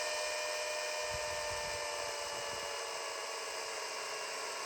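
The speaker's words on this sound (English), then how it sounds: "My little electric chainsaw was definitely getting quite the abuse." A small electric chainsaw cutting a log gives a steady, high-pitched whine continuously at close range, with a low rumble of cutting underneath throughout.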